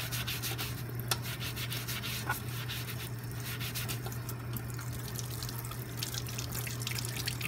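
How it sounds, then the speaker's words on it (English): An emptied eggshell is rubbed clean under running tap water, a steady faint hiss of water with soft scrubbing and small drips, close and quiet with no talk. "when I'm done, I'll go ahead and clean this again to get all any kind of egg residue"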